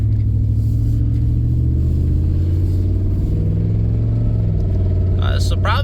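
A 2002 Dodge Durango SXT with 294,000 miles drives on a tar road, its engine a loud steady low rumble with a rising and falling note as it pulls along, and a voice speaks over it.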